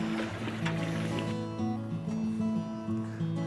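River water laps and trickles around a fishing boat on a clean stretch of river, a steady close wash under a low motor-like hum, with no talking.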